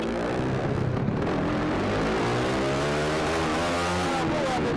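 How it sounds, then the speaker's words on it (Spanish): Motorcycle carrying two riders during a police chase through the streets of Rosario; a loud, steady engine drone with shifting harmonic tones, close and continuous throughout. "Es una persecución a dos tripulantes de una moto."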